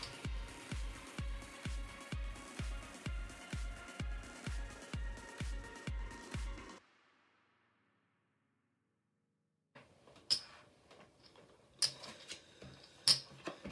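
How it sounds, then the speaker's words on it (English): Playing cards are shuffled for a double-deck blackjack game: a fast, steady run of crisp riffling clicks for several seconds, then silence, followed by a few scattered card snaps and taps. "And shuffle."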